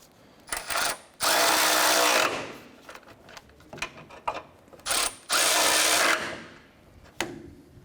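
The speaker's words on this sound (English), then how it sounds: "Now we can tighten down our horizontal bolts." A power tool tightens engine mount bolts on a Honda Accord, with two loud sustained whirring bursts of about a second each, plus shorter clicks and ratcheting taps in between, close up in a garage.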